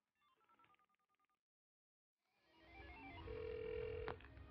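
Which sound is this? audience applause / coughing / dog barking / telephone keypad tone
telephone keypad tone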